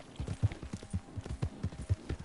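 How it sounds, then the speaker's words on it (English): Horses' hooves clip-clop in a steady, fairly close rhythm in Red Dead Redemption 2, with no voices over them. "Those are horses, not deer."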